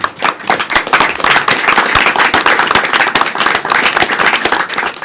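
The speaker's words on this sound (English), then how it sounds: "we should give them a round of applause" A courtroom crowd breaks into sustained applause after a death sentence hearing, with many hands clapping densely and steadily at close range for several seconds, without speech.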